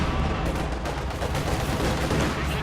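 Tank gunfire and battle noise in Company of Heroes, involving a KV-1 tank and a Puma armoured car: a dense, rumbling barrage of overlapping shots and booms at constant loudness for a few seconds.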